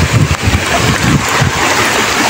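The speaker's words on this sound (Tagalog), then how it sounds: "Lakas ng agos oh." Fast typhoon floodwater rushes through a street in Valenzuela, a loud continuous churning and splashing roar with wind buffeting the microphone.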